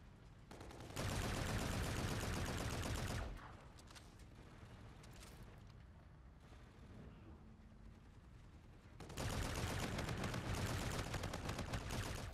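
Bursts of rapid video game gunfire from a VOLK rifle ring out loudly in two stretches, one early and one near the end, with a quieter rumbling lull between them.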